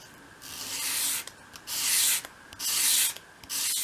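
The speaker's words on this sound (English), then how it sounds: "take one of your smaller pieces, and we're going to bevel the edge that goes in the direction of the grain" A small wooden piece for a 1/12 scale dollhouse storage unit is bevelled along the grain, probably with sandpaper: four or five close, rhythmic rasping strokes with short pauses between them, and no talking.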